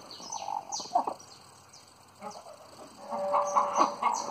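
Hens clucking close by in a coop where broody chickens are being moved, a black-grey hen among them, with soft bursts of calls, a pause, then a longer run of clucks.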